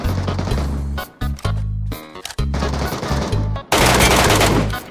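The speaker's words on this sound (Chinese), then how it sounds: "枪声" Loud bursts of automatic gunfire from a shooter video game, with rapid rattling volleys broken by short gaps and a dense, sustained barrage at the end.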